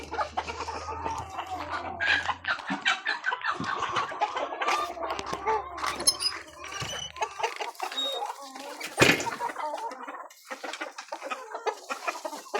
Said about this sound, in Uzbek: Mana ichkaridagi tovuqlarimiz, do'stlar.